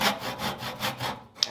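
A fine hand saw cuts through a small wooden maple leaf shape with steady back-and-forth rasping strokes, about five close, even strokes ending in a faint tap.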